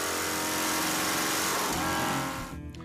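A street motorcycle fitted with drag pipes revs hard toward 5,500 RPM, a loud, dense, raspy exhaust blare held steadily close by before easing off at the very end, with no speech.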